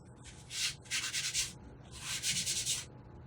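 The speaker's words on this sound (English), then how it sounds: "Just rubbing off any of the extra powder" Brisk scratchy rubbing as excess powder is brushed off a wood-burned butterfly piece, two sustained bursts of close, dry friction with a short pause between.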